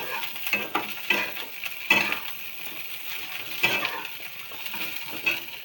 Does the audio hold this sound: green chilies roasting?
yes